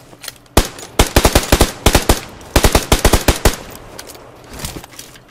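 Rapid bursts of video game gunfire, several quick volleys of sharp shots in a row with brief pauses between, loud and close, fading to a few scattered softer shots at the end.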